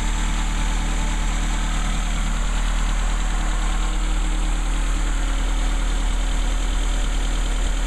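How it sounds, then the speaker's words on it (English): Car engine idling steadily with a carburetor fitted with a modified Aisan vacuum secondary spring, a smooth, continuous mid-pitched hum and faint vibration that holds even and close throughout, with no talking. "As you can see, it idles great. Still idles normally."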